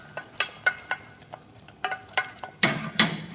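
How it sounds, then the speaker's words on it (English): A utensil scrapes and knocks rhythmically against a pan as chicken mornay sauce is stirred vigorously, a series of quick close taps and scrapes, roughly a dozen strokes. "Just stir it quite vigorously, and you'll see it start to bind and start to take"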